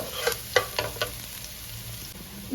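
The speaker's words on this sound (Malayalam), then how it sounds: "ഇതിൻ്റെ പച്ചമുളക് നന്നായിട്ട് മാറട്ടെ, അതുവരെ നമുക്ക് ഇളക്കിയിട്ടെടുക്കാം." Onion and green chillies sautéing in oil, a low continuous sizzle broken by several scraping stirs of a spoon in the pan, close and fairly quiet.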